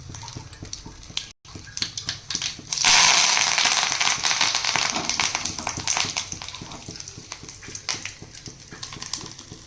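Mustard seeds and curry leaves crackle and splutter in hot oil while making mudakkathan dosa, a dense broadband sizzle swelling loudly after a brief pause and continuing with scattered sharp pops and small clinks.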